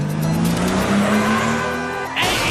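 A car engine revs loud and close as tires squeal and skid, the pitch rising before a sharp burst of screeching as the vehicle takes off.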